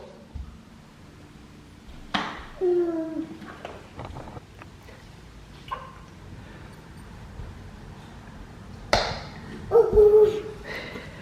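A dog gives a few short barks and yips, with quiet pauses and faint voices in between.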